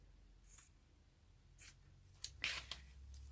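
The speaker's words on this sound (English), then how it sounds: "I'm going to cut it." Scissors cut paper for a journal craft in a few brief, quiet snips spaced across the moment, with faint rustling between them and no talk.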